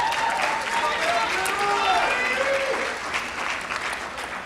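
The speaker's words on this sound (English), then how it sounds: "Big round of applause for those folks." An audience at the 2018 OMAs award show applauds in a steady, dense wash of clapping that holds for several seconds and eases slightly toward the end, with faint tonal sounds running underneath.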